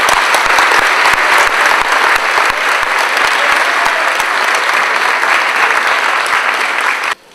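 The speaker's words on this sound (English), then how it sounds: "give them a round of applause for being just that student athlete" Loud, dense applause from a large crowd at a school college commitment ceremony, a steady wash of clapping that carries on for several seconds before cutting off abruptly.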